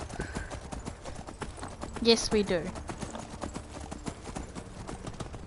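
Horse hooves clip-clopping in a steady rapid rhythm, with a brief whinny partway through, while people talk over the sound.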